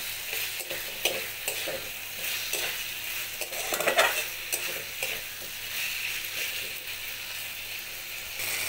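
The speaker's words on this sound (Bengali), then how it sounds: "এবার দিয়ে দেব ভেজে রাখা সবজিগুলো দিয়ে আবারও কিছুক্ষণ কষিয়ে নেব" Fried papaya, potato and pointed gourd being stir-fried in a spice paste in a pan, with a continuous close sizzle and repeated scraping and stirring strokes.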